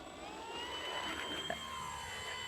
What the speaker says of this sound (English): So this plane will get up in the air in short order